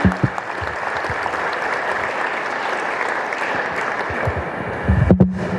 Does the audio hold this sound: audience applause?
yes